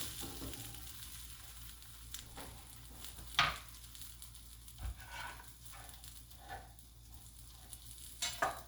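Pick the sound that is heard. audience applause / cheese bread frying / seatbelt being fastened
cheese bread frying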